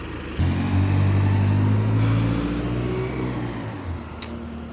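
Bus engine on route U3, fleet number ML DE996, revving up steadily and loudly nearby with a low droning roar, then easing back toward the end.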